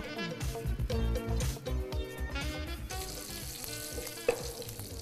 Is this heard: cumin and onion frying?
yes